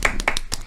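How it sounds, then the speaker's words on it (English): A brief round of applause from a small group during a school JROTC podcast interview, with a few seconds of quick, close hand claps. "Round of applause."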